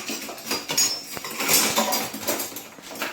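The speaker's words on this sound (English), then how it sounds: "Right, just mix that in." Batter of liquid and powder being stirred in a bowl for desi-style fish and chips, with steady clinking and scraping of a utensil against the bowl, close and moderately loud, no talking.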